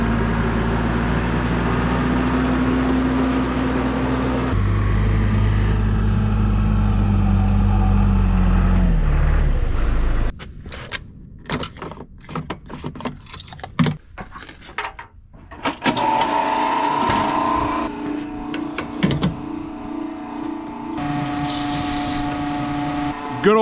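A farm tractor's diesel engine drones steadily and loudly while driving, then drops in load; clattering and rattling mechanical noises and shifting engine tones follow over the rest of the ride.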